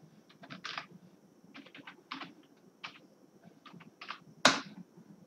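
Fingers type a password on a computer keyboard in short bursts of light clicks separated by pauses, ending with one louder key strike, close up in a quiet room.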